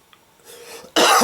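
A single loud, harsh cough close to the mic, coming after a second of faint background noise.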